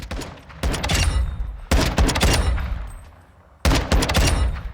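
A Mark 20 rifle chambered in 6.5 Creedmoor fires in Call of Duty: Modern Warfare II, producing heavy, close, booming single shots spaced about a second or two apart, each followed by a long rolling echo that fades out.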